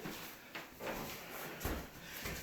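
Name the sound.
office door being opened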